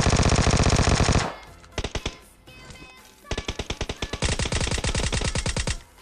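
Two bursts of rapid automatic gunfire from Vector and VSS weapons in PUBG Mobile, loud and close, a long rattling burst then shorter staccato volleys with brief gaps between.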